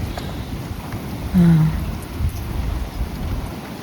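Heavy rain pours in a loud, dense steady wash during a storm, with a brief low rumble or gust swelling briefly near the middle.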